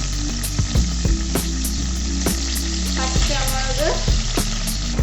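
Garlic and ginger sizzle steadily in a hot pan for chilli prawns, with a bright continuous frying hiss, several stirring scrapes and clinks, and no talk over it.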